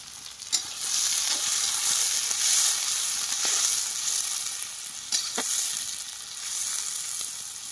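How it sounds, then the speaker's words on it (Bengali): Onions fry in a pan until browned, giving a loud, continuous sizzle with occasional stirring clicks and scrapes close by. No voices are heard. "পেঁয়াজটাকে লাল করে ভালো করে ভেজে নেব।"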